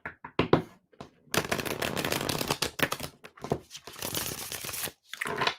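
Tarot cards being shuffled in quick, crisp riffling bursts, separated by short pauses, loud and close, with no talking.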